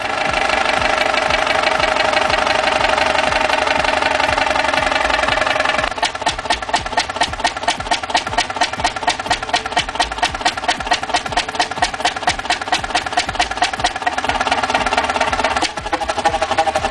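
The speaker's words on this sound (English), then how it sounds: "Fairbanks Morse model 32D1936, a single-cylinder, two-stroke, low-speed diesel engine." A Fairbanks Morse model 32D1936 single-cylinder, two-stroke, low-speed diesel engine runs with a loud, steady, rapid knocking beat, the pulses turning sharper and more distinct after the first few seconds.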